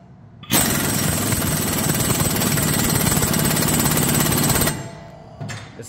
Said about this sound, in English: this is my impact gun.